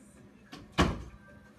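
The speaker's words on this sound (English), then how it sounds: "Let me close this door." A hotel room door on the first floor of an Orlando hotel swings shut with one fairly close, solid thud, preceded by a fainter shuffle, with no talk over it.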